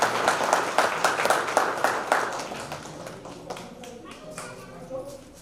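Audience at a school annual function claps in a burst of dense, rhythmic applause that fades to scattered claps over several seconds, with voices and room noise underneath.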